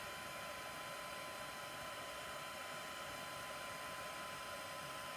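A heat tool on low heat blows a steady, even whoosh while warming vellum paper for card making, a constant airy hiss that continues unbroken without any talk.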